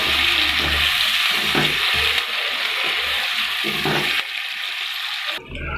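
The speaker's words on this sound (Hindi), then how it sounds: "अच्छे से प्याज को फ्राई करें।" Onions frying in a pan for pea pulao, giving a loud, dense hiss with brief stirring thumps. The sizzle drops abruptly near the end.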